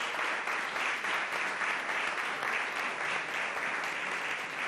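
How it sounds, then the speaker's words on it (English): Steady, even applause from an audience at a space and net-zero talk, sustained throughout with no speech on top, heard from within the room. "And let's give Simonetta a big hand of applause."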